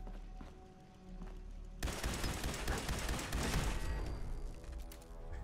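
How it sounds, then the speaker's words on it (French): Turret gunfire in the video game Fallout 4, a sudden dense burst of rapid shots starting after a quiet stretch and continuing as a loud sustained fusillade. "Je me disais bien que j'avais entendu une tourelle tout à l'heure."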